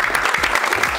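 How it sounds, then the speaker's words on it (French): Brief burst of loud, close audience clapping at a press conference in Hammamet following the mention of a women's boxer, steady and continuous. "Je vous demande de l'applaudir très très fort."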